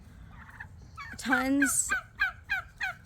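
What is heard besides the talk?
pet turkeys gobbling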